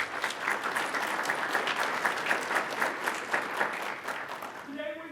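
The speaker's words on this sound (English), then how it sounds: "So I do believe that deserves a round of applause today." A crowd applauds steadily with dense, sustained clapping that carries on for several seconds before tapering off at the end.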